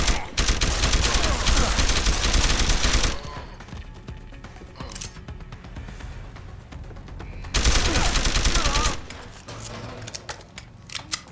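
Gunfire in the video game Deus Ex: Human Revolution: two long dense bursts of rapid automatic shots, loud and close, separated by quieter stretches of scattered clicks and single reports.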